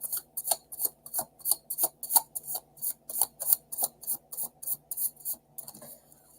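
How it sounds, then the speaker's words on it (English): A tarot card deck is shuffled in a quick, even rhythm of crisp riffling flicks, about three per second, close and fairly quiet, with no talk. "I'll give it another shuffle."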